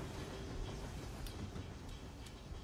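Steady broadband rumble and rattle of a train rolling past, with faint clicking and occasional light metallic ticks.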